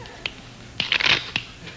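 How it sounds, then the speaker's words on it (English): Deck of playing cards being given a quick shuffle at a magician's table on a 1988 talk show, a few crisp riffles and taps in a short burst. "you can give the cards a shuffle"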